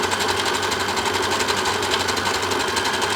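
A sewing machine stitches fabric at a lengthened stitch setting, giving a steady, rapid mechanical whirring and needle chatter that runs evenly and close by for the whole stretch, with no talking.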